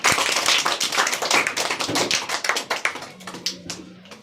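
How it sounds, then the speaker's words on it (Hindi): A group claps for a correct answer in an oral history quiz in a classroom. The applause is loud, quick and uneven, close by, and thins into a few scattered claps at the end, with a faint voice underneath. "सही जवाब, ताली बजाइए"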